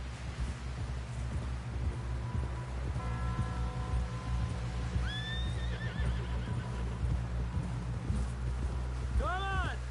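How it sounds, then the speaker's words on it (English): Horses clip-clop and whinny in the Red Dead Redemption 2 video game, a rhythmic hoof patter over a low rumble with several sharp neighs, a loud one near the end, while people talk. "Someone help John down off this horse."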